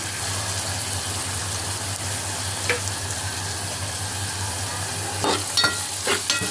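Onions frying in a pan with cumin and salt, a steady close sizzle with a low hum beneath, broken near the end by a few sharp scraping stirs of a spoon.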